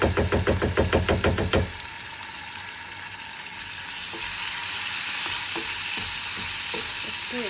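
Red chilli and kasuri methi frying in a pan for a dhaba-style egg tadka. Rhythmic knocking strokes come first, then a loud, steady sizzle with occasional stirring scrapes.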